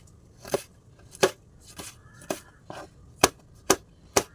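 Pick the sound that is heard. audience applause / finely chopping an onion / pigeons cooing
finely chopping an onion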